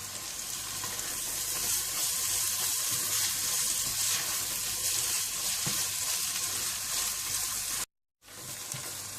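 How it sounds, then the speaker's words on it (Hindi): Chopped ginger and garlic fry with lightly browned onions for a mutton stew, making a loud, continuous close-up sizzle with stirring that cuts out briefly near the end. "जब प्याज हल्की सी ब्राउन होने लगे तो आप इसमें चॉप किया हुआ अदरक लहसुन डाल दें। और इसे भी आप थोड़ा सा हल्का सा भून लें।"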